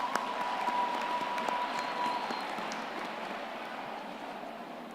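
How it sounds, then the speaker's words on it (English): Applause at a university graduation ceremony, a broad sustained wash of clapping from a large audience, distant and fading gradually. "they deserve another round of applause"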